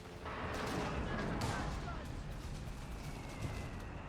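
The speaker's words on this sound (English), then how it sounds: "And some base artillery as well being called in there" Base artillery fire in Company of Heroes 3 during a 2v2 match, a sustained rumbling barrage of distant booms with sharper blasts mixed in, rolling continuously under a commentator's talk.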